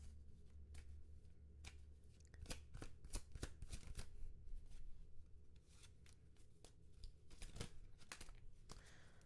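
A deck of oracle cards being shuffled, with bursts of quick crisp riffling and flicking spread across several seconds, close and fairly quiet with no talking.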